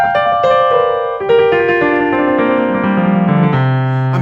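A piano rolls triplet arpeggios downward through a chord pattern, bright ringing notes stepping lower in a steady flowing rhythm, close and loud with no talk over it.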